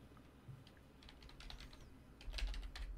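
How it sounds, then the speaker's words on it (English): Keys clatter on a computer keyboard during an online Valheim and Content Warning gaming session, quiet close clicks in irregular bursts that grow busier near the end, with no talking. "Oh, it's what I'm typing"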